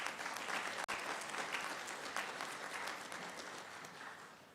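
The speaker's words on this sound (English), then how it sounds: "Could you give him a round of applause," Full, steady applause from a conference audience at an academic event on Africa, a dense wash of clapping that holds level and begins to taper near the end, with one brief sharp click early on.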